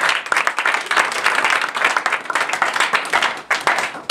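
A church congregation applauds in praise: dense, steady clapping from many hands fills the space, close and lively, with a few faint voices underneath.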